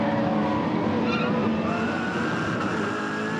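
Supercars at the Phillip Island hairpin in a 2006 championship race, with a brief tire squeal from locked brakes under the loud, continuous roar of nearby race engines.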